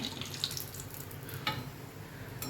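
Pineapple shankarpali made from maida fry in oil over a low flame, giving a soft, quiet bubbling sizzle with a couple of brief clicks.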